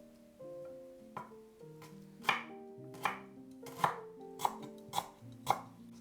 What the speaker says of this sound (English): Finely mince 10 grams of lemongrass